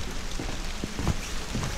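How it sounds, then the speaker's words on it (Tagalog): Heavy rain in a recreational forest at Jangtaesan near Daejeon, a dense steady hiss of falling drops with a few louder nearby patters, no talking. "inabot na tayo ng malakas na ulan"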